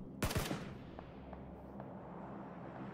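Sniper gunfire in the video game PUBG at an esports tournament: a quick burst of sharp shots early on, followed by faint scattered pops against a low background rumble.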